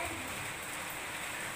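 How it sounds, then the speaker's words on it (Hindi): Steady rain falls in a continuous, even hiss, close and moderately loud, with no voices over it. "बारिश हो रहा, मत जाना बेटा छत पे"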